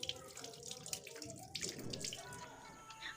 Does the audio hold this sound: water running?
yes